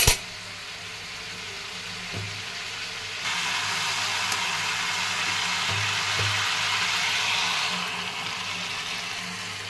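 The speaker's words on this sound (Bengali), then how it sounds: "আদা রসুনের পেস্টটা দিয়ে দিলাম এই তেলের মধ্যে।" Ginger garlic paste dropped into hot oil with lightly fried meat, a broad steady sizzle that jumps louder partway through and holds, with a few faint clinks, no talking.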